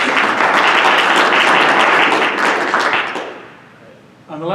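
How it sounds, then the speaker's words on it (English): Audience applause follows a startup pitch at a pitch event, a dense, loud burst of many hands clapping for about three seconds before dying away, then a voice begins speaking. "round of applause"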